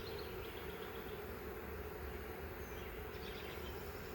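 Honeybees hum steadily around an open hive holding a queen and queenless bees, a continuous close buzzing drone filling the whole stretch without pause.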